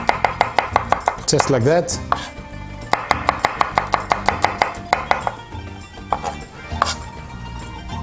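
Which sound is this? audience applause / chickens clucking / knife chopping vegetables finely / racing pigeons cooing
knife chopping vegetables finely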